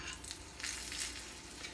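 Potato frying in grapeseed oil, a soft continuous crackling sizzle with small pops, close and fairly quiet, with no talking.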